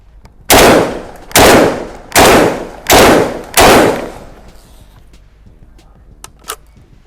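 Five loud, close shotgun blasts from a Khan Arms MLT 12 ring out at an outdoor range, spaced evenly less than a second apart, each with a sharp crack and short decaying tail, followed by quiet ambience and faint clicks.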